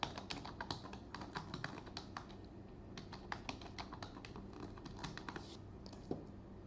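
Typing a password on a computer keyboard, a steady run of soft, close key taps in quick irregular rhythm over faint room hiss, with no talking.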